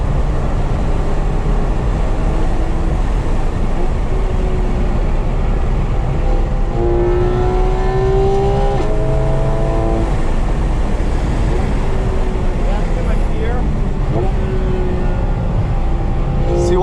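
From inside a Porsche GT3 RS at full throttle on the Thunder Hill race track, a loud, continuous engine roar rises in pitch as the car accelerates, mixed with road and wind noise.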